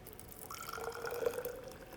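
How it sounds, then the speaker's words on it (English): Hot boiled water is poured from a Tommee Tippee GoPrep formula maker flask, a close, gentle trickle and splash rising in pitch as the container fills, with no voices over it. "All you need to do is pour the hot boiled water"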